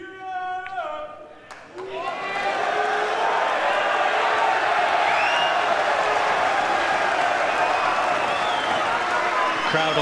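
Applause and cheering from the crowd at the 2018 Mosconi Cup pool match, starting after a brief voice and then swelling into steady, loud, sustained clapping that fills the hall.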